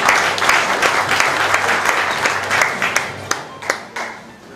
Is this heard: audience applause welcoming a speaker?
yes